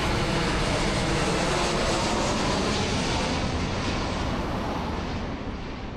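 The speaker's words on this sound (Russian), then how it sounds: "самолеты будут взлетать и садиться буквально над вашей головой" Low-flying airplane passing over a seaside resort beside an airport, a loud, steady jet roar that fills the whole clip with broadband rumble and fades only slightly toward the end.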